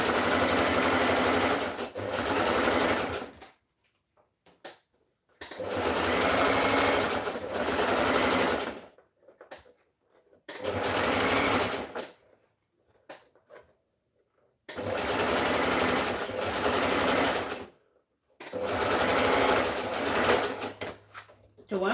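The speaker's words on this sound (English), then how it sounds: "Top stitch, like I say again, facing the band of the sleeve." A sewing machine top-stitching the band of a shirt sleeve runs in five bursts of steady whirring, each a few seconds long, separated by short quiet pauses; it sounds close and clear.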